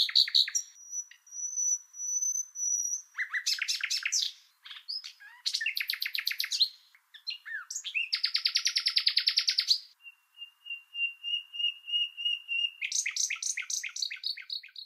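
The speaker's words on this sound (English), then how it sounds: "you know I'm talking about the nightingale, and that would have to be the one" Nightingale singing alone, a varied sequence of clear whistles, rapid trills and rattling bursts separated by short pauses, close and loud.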